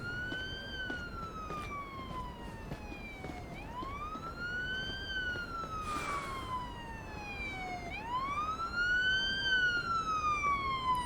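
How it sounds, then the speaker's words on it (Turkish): Wailing ambulance siren in a police simulator patrol video game, its pitch sweeping up and down in long smooth cycles, steady and fairly loud throughout with no talk over it. "Ambulans geliyor. Ambulans geldi."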